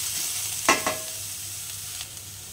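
Gram flour sautéing with pink-cooked onions in a pan, a soft steady sizzle with a couple of sharp spoon scrapes early on, fairly quiet and without voices.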